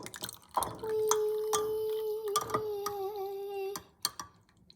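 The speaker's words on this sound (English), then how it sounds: "I'm gonna add a little bit more water and then I'm gonna pour it in." Water poured steadily into a container while making fruit-filled watermelon, a continuous trickling pour lasting a few seconds between clinks and knocks of handling, fairly close and moderately loud.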